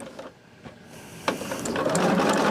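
A Bernina sewing machine stitches fabric close by, starting with a few clicks and pauses, then speeding into a steady whirring run of rapid needle strokes.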